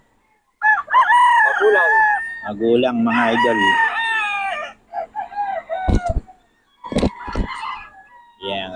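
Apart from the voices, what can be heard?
roosters crowing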